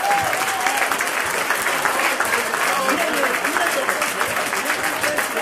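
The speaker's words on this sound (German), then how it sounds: "Und da darf ich zunächst mal einen riesen Applaus bitten." Loud, sustained applause from a gathered crowd at a 25th-anniversary celebration for the hut keepers of the Enzianhütte in the Rhön, dense steady clapping filling the whole stretch.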